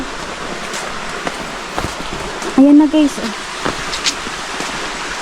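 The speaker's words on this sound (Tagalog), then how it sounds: "May naririnig na akong agos ng tubig." A waterfall stream rushes in a steady, broad wash of flowing water heard from some distance, with people talking briefly over it.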